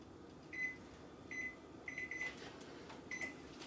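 A microwave oven runs while cooking meatballs, giving off a steady low hum with a series of short tonal beeps at intervals. Nobody speaks.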